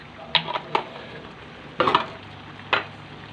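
An Ilocano dish with soy sauce is stirred in a pan, giving a few short scraping strokes of a utensil over a soft steady sizzle.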